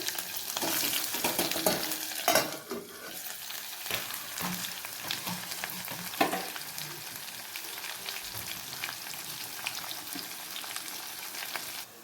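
Onions and green chillies fry in a pan for a chicken curry. A continuous close sizzle is broken by occasional stirring scrapes and clinks, and no one speaks.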